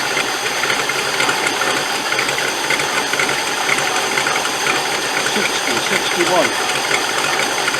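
A 1985 ex-NATO Land Rover 110 with a V8 engine idles loud and close, a steady mechanical churn with ticking valvetrain, while someone speaks briefly over it.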